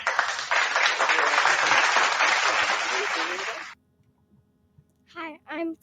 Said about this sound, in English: I'm gonna give you applause.